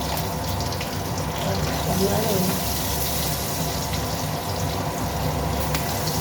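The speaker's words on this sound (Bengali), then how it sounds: "আমি জল দিয়ে দিচ্ছি পরিমাণ মতো জল দেবো" Water is poured into a simmering fish and eggplant curry made with nigella seeds and green chilies, a continuous gushing stream heard over a steady bubbling background.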